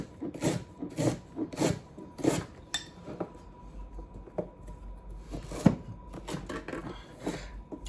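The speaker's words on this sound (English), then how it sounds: "I'm just gonna really rough chop the ginger." Fresh unpeeled ginger roughly chopped with a knife on a board, a series of close, fairly quiet rhythmic chopping knocks, several in quick succession, then more scattered cuts.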